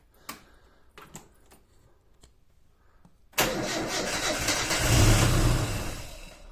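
A car engine with the choke pulled out catches after a few quiet clicks and fumbling, bursting into a loud close start and then a raised, revving idle that swells and holds.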